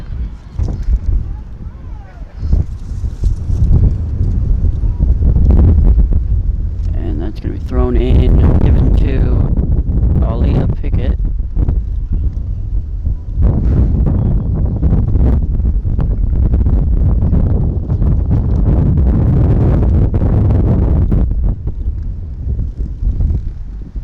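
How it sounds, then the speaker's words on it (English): Heavy wind buffets the microphone in loud, rumbling gusts throughout, with scattered bits of distant voices and activity underneath, at a girls' soccer game. "very windy here."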